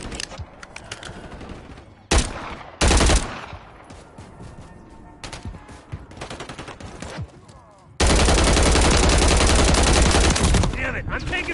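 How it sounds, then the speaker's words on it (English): Incoming gunfire in a Call of Duty: Modern Warfare III multiplayer match: loud bursts of shots and scattered single cracks, ending in a sustained heavy automatic barrage that stays loud and close. "Damn it, I'm taking fucking rounds."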